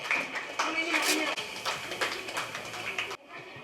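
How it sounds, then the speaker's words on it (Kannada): An audience claps at a school book distribution event held by a charitable trust, a dense burst of applause from a crowd that continues for about three seconds before cutting off abruptly. "ಎಲ್ಲರೂ ಜೋರಾಗಿ ಅವರಿಗೆ ಒಂದು ಚಪ್ಪಾಳೆಯನ್ನು ಕೊಡಬೇಕಾಗಿ ಕೇಳಿಕೊಳ್ಳುತ್ತೇನೆ"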